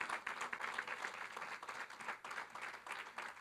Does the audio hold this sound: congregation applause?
yes